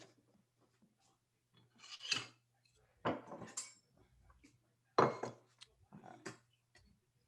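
A knife slicing through a glazed lemon yogurt cake, heard as four or five short, close rasping strokes with quiet pauses between them over a low steady hum.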